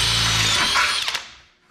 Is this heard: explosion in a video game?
no